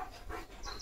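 Leo, a German Shepherd out in the rain, pants in quick, close, breathy gasps for under a second.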